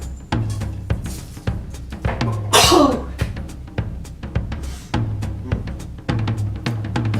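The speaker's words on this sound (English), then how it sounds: "because I needed to sneeze" A single loud sneeze bursts out midway, amid clattering kitchen noises and thuds.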